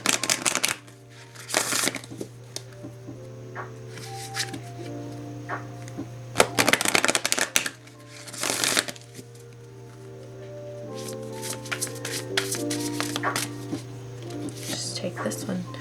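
Tarot cards shuffled in a card-reading session, giving bursts of riffling and flicking, with a steady low hum running underneath throughout.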